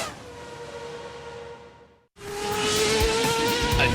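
Formula 1 race car screaming past at speed, a loud high-pitched engine whine that fades out, drops briefly to near silence, then surges back louder and sustained as another pass follows.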